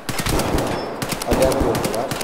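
Rapid automatic gunfire in Escape From Tarkov, two close bursts of dense, cracking shots split by a short pause, loud and alone with no talking.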